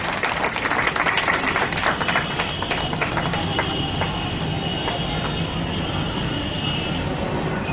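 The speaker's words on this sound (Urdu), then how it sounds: "تالیوں کی گونج میں استقبال کیجیے گا" Audience applause welcoming a speaker at an event in Khanewal: dense clapping from a crowd, loudest at first and then holding steady, with no talk over it.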